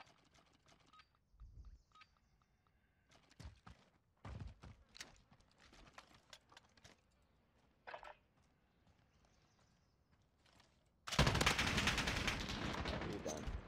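Gunfire in Call of Duty Modern Warfare during a 1v1 gunfight: scattered sharp shots and faint game effects, then a loud sustained burst of rapid fire near the end.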